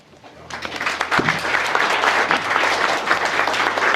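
Wedding guests at a reception breaking into applause after speeches, the clapping rising quickly into a full, close, sustained round from a large crowd, with a few faint voices underneath.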